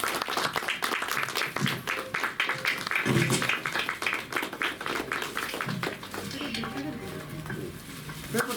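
An audience claps at a Kannada film trailer launch event, a dense crackling round of applause that stays steady and fairly loud, with voices in the crowd mixed underneath.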